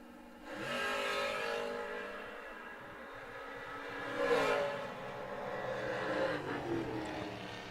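Drag racers launch down the strip, a Chevrolet Blazer against a Camaro, their engines rising in a loud broad roar that swells and passes mid-way, then holds steady.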